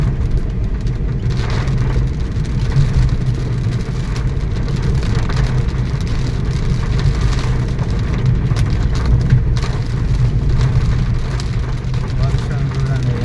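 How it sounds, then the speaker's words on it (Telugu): Heavy rain drums on a moving car during a drive, a loud, dense, steady wash of rain noise over low road rumble that continues unbroken for the whole stretch. "వర్షం చూడండి ఎంత బీభత్సంగా పడుతుందో."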